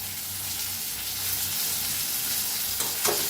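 Mashed eggplant bharit mixture roasting in a pan, a steady soft sizzle with occasional scraping stir strokes near the end, no talking.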